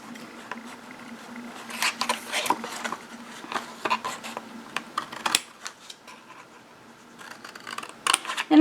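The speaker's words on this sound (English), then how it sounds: "you're going to take your scissors and you're going to cut off this excess of your hinge" Scissors snip away excess paper hinge on a handmade expanding book page, a series of short, crisp cuts and rustles at close range, fairly quiet, with no talking.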